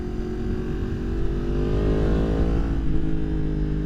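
A 2023 Yamaha MT-10 motorcycle engine revs up and holds a strong, close mechanical drone, its pitch climbing then settling on a mountain parkway, with no talk.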